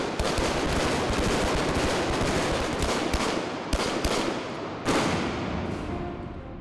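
Dense, loud gunfire from weapons training, with rapid overlapping shots and bursts rolling on continuously, a few sharper cracks standing out near the end and no speech over it.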